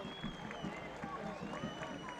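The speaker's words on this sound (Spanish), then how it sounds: "El aplauso de la gente de comunicaciones" Comunicaciones supporters give faint, distant applause for a player during a local league football match against Nebel. A steady crowd murmur fills the open ground.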